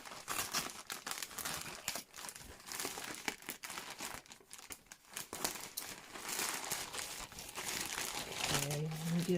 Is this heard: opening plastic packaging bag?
yes